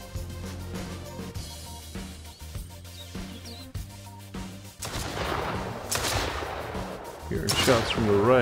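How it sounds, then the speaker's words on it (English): Gunfire from the survival game Mist Survival during a bandit camp raid: a few sparse reports early on, then denser bursts of shots that grow louder toward the end over a low ambient background. "Shots from the right, but I don't see anybody."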